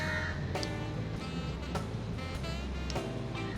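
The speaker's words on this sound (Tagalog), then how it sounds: "Tapos may uwak din." A few crow caws ring out over a steady outdoor hum in rainy Singapore, spaced irregularly and fairly near.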